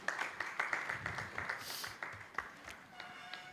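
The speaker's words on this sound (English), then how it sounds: "A round of applause." Faint applause from a small audience at the end of a presentation during a live-streamed event, scattered rhythmic claps with some background tones and murmurs, fairly distant.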